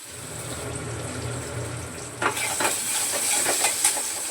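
Onion and tomato sauté in a pan with a soft, steady sizzle and hiss, joined midway by a few light scraping stirs, fairly quiet and close.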